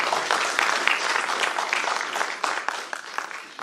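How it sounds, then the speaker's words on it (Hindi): Loud, dense applause from a mushaira audience at a poetry festival, continuous clapping that thins slightly toward the end. "जोरदार तालियां।"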